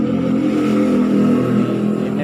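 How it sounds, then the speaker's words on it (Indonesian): Suzuki Satria FU carburetor motorcycle engine idling and revving at low throttle, a steady, loud, close running drone with slight roughness at low RPM and no clear bursts. "ini motor berebet di RPM bawah atau gas 1/4 kurang, bukaan gas 1/4 kurang berebet"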